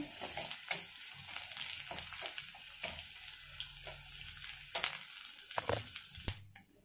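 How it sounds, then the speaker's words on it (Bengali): Garlic fries in a hot pan for a leafy mash recipe. It crackles and sizzles with irregular stirring scrapes and clinks, close and fairly quiet, and trails off near the end with no talking. "রসুনটা ভাজা হয়ে গেছে, এবার পাতাটা দিয়ে দেবো।"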